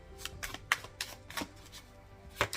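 Tarot cards being shuffled by hand, with several quick riffling bursts at irregular intervals, close and fairly quiet, and a brief pause before a final riffle.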